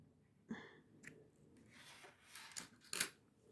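Scissors snip through crochet yarn in a few quiet, crisp cuts and rasps, spaced irregularly and heard close up, with no talking.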